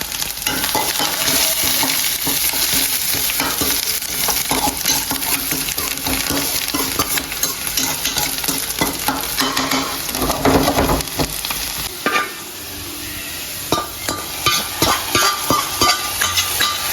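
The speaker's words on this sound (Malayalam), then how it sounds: "മീൻകൂട്ടാൻ ഒന്ന് കാച്ചട്ടെ കേട്ടോ" A fish curry is tempered in a pan with a loud, close sizzle and repeated scraping stir strokes. The sizzle briefly drops away near the end before the stirring bursts resume.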